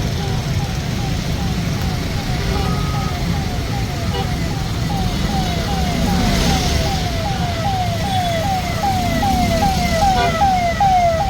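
A siren wails in a rapid repeating pattern from a vehicle in a politician's convoy in Baramati, heard at moderate distance over steady road traffic rumble.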